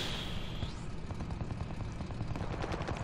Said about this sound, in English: tank sound is so cool.